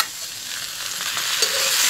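Ginger, garlic, green chili and onion paste goes into taro corm frying in a pan over a traditional mud stove, giving a steady, close, broad sizzle that swells slightly toward the end.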